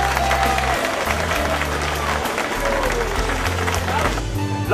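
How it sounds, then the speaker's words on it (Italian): Crowd at the Coppa Agostoni cycling race applauding Paolo Bettini, continuous clapping under loud music and a public-address announcer speaking over it. "La provincia di Monte Brianza applaude Paolo Pettini."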